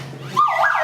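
A loud siren wail swells in abruptly and sweeps up and down in a rising, falling tone, close by and on its own.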